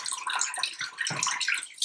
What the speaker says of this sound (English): wash your hands in warm water for at